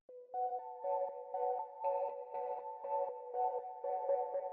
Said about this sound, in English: We're at 120 BPM, and this ARP sounds like this.